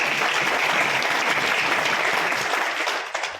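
An audience claps at a meeting in Veraval, a dense, loud burst of applause that holds steady and then thins out toward the end.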